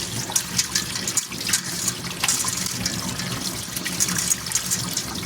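Tap water runs steadily while pork belly is rinsed under it in a home kitchen, a constant splashing rush with small irregular knocks and spatters from handling the meat in the sink.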